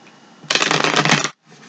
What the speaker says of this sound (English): Let me give it 3 shuffles.